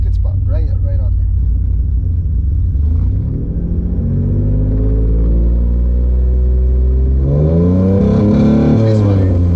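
A 3G Mitsubishi Eclipse engine, converted to a carburetor with no ECU, idles as a loud, close rumble, then revs upward with rising pitch toward the end, with a voice talking over it.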